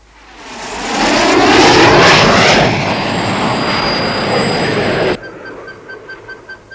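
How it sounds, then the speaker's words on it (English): A propeller airplane flies over a mountain valley, its engine drone swelling from a distant approach to a loud, close roar, holding steady, then dropping sharply to a fainter hum as it passes. "A plane of some kind."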